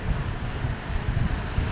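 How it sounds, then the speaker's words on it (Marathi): Sea waves break along the Ratnagiri shore in a steady low rush of surf, with wind buffeting the microphone throughout the short stretch and no voices. "खूप पाणी येते असे लाटा येतात ते"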